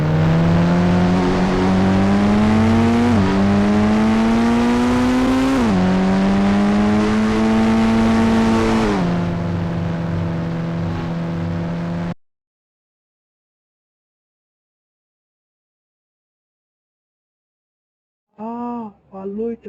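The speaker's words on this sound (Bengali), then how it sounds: "এই পুলিশ কার কি পারবে ওই গাড়ির মতো লাফ দিয়ে ট্রেনের" A police car engine in a 3D bike video game revs hard in repeated rising pulls, each climb cut by an upshift, loud and continuous before falling silent; a short burst of voice follows near the end.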